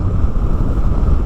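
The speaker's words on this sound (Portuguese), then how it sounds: "Se liga só no vento, olha a força do vento." Strong wind roars and buffets the microphone near the Farol de Santa Marta lighthouse by the road, a dense, steady low rumble with no pauses throughout.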